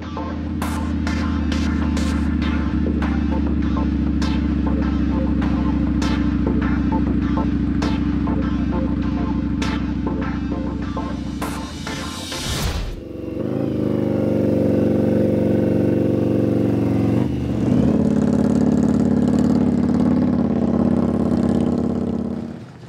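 Indian Appaloosa motorcycle racing on a one-mile strip at the Baikal Mile, engine roaring loud and close as it accelerates through rising revs with sharp gear shifts, then dropping and pulling strongly again.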